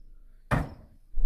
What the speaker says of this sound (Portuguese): Bate fora a porta com mais força.